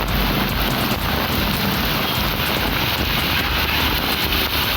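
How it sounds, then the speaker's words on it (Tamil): Heavy rain pours down at night in Tamil Nadu, a dense, constant hiss of falling water with a windy rush, loud and unbroken throughout with no voices. "இரவு நேரத்தில் இடிமின்னலுடன் மழை பெய்தது"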